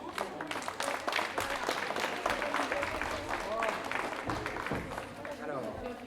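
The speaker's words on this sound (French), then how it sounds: "On peut les applaudir." Crowd clapping mixed with cheering and chatter at a school team final, a lively, fairly distant applause with voices throughout.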